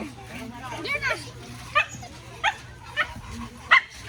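A dog barks in several sharp yips at moderate distance during a school drop-off, while people talk over it and children's voices carry in the background.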